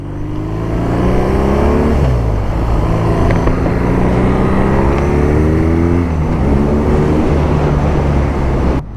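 A BMW R nineT Pure flat-twin motorcycle accelerates hard through several gears, its engine note climbing in repeated rising sweeps with drops at each shift, loud and close, with wind noise behind.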